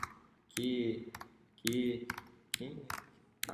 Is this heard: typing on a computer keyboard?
yes